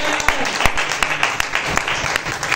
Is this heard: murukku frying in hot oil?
no